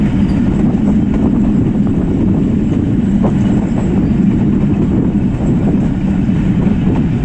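The Mehr Express train runs along a branch line with a loud, steady rumble and a faint rhythmic rail clatter, heard continuously from inside the train with no talking.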